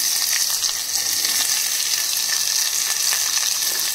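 Garlic and chopped onions frying in hot oil in a pan, a dense, continuous bright sizzle that stays steady and close throughout, with no voices.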